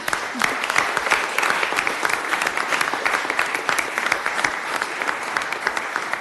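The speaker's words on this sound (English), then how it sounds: "So we can give a round of applause for all of those people" Steady applause fills a city commission meeting room from a crowd honoring employees, even and sustained throughout with no break.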